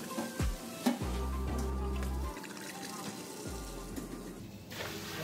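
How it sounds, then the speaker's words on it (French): Red wine splashes into a hot pan of flour-thickened sauce, giving a soft, steady sizzle and liquid pour in a home kitchen, with a voice speaking over it. "mélangez bien et déglacez au vin rouge"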